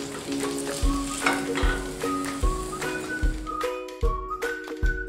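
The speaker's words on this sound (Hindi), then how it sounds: "अब हमारे ये पनीर पापड़ फ्राई बन के तैयार हो चुके हैं" Paneer papad fritters crackle in hot oil, a loud, busy sizzle with repeated clinks and scrapes of a utensil lifting pieces out one by one.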